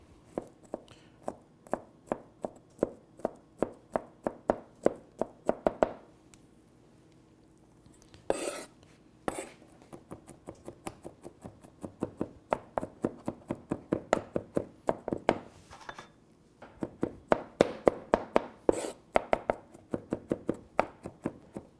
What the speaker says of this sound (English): if you're not experienced chopping the fava beans or anything with a knife